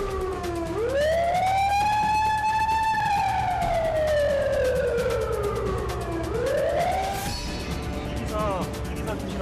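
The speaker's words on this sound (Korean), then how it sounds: "다른 구역에서 사이렌 소리가 울린다. 곧 발파 예정이다." A loud blasting warning siren at a road tunnel construction site wails, rising and falling in long sweeping tones, steady and close, with a brief rising whoop near the end.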